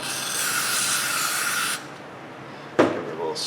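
A short spray can burst hisses steadily for almost two seconds during a car axle repair, then stops. A brief clatter and a faint second hiss follow close by.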